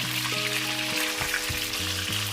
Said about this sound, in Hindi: अब इन मिर्चों को इसमें कुछ देर तक पकाएंगे